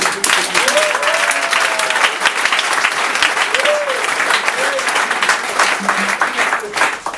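A church audience applauds loudly and steadily throughout, dense clapping filling the space, with a few voices calling out over it.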